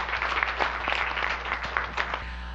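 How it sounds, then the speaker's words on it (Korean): An indoor audience at a talk on women in business gives a brief, moderately quiet round of encouraging applause, many hands clapping evenly for a couple of seconds. "응원의 박수 한번 부탁드리겠습니다"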